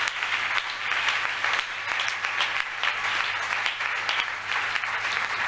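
A church congregation bursts into sustained, dense applause that carries on throughout, with a faint voice underneath.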